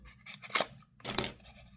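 Two quick snips of scissors cutting, crisp and close, with a short pause between them and nothing else around.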